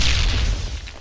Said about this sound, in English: Stand back, grenade out.